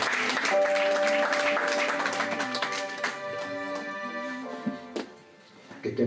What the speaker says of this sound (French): Est-ce que tu veux acclamer le Seigneur?